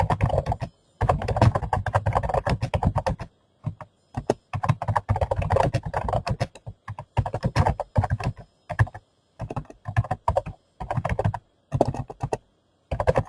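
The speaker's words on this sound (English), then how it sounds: "I'm going to go ahead and type something here." Someone types on a computer keyboard in rapid bursts of clicky keystrokes, broken by short silent pauses, close and clear with no talking.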